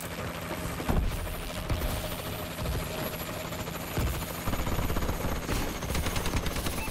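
Warbird gunship support in Call of Duty: Advanced Warfare, a helicopter-like aircraft rotor drone running steadily while bursts of rapid gunfire and scattered shots crackle over it, fairly loud and close, with no talking.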